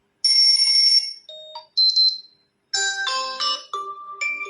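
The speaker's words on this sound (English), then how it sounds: "there are many types of alarm ringtone" Several Xiaomi 11 Lite NE 5G phone alarm ringtones play one after another, bright beeping melodies and chimes separated by short silences, clear and close.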